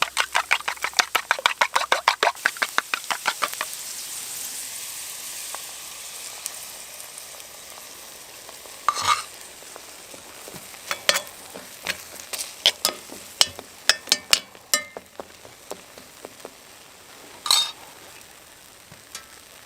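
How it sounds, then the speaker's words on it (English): An omelette sizzling in a pan over a fire in the woods, with a utensil scraping and stirring in quick, irregular strokes, near and fairly loud, under steady frying crackle. "Yeah, you guessed it, I'm cooking an omelette in the woods. Give that a little stir so it doesn't burn."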